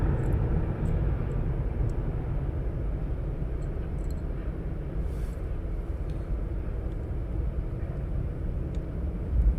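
A cargo aircraft arriving from Amsterdam at East Midlands Airport produces a steady, loud, broad rumbling engine roar that persists throughout without breaks, with faint scattered ticks above it.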